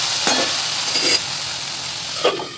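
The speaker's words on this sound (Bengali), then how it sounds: "লিডটা খুলে দেখি কী হয়েছে, ভাজা ভাজা হচ্ছে" Food frying in a lidded pan, a steady broadband sizzle throughout, with a few brief louder bursts as the lid is lifted or the food is stirred; no voices.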